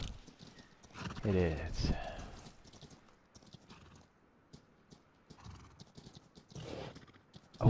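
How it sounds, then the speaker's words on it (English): Horses in the game Rust neigh and whinny while hooves clop in a steady walking rhythm, close and fairly loud, with a person briefly speaking over them. "Oh, it's their horses making sound."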